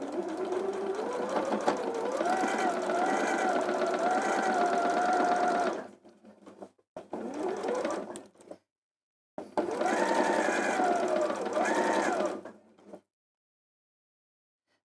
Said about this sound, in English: So I'll stitch this again right from the end.